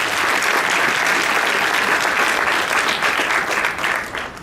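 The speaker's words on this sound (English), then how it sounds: "we want to give Gary a tremendous round of applause" Steady, full applause fills a room at a US transportation announcement event, a dense, continuous clapping from a large audience that tapers slightly at the end.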